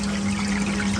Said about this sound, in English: now I have the RODI running through this gravity fed auto top off. It's draining water